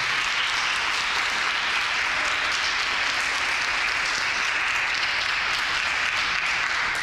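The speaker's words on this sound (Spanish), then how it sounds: "un aplauso al Señor" A church congregation claps steadily, a dense, even wash of applause that holds at constant loudness for the whole stretch without speech.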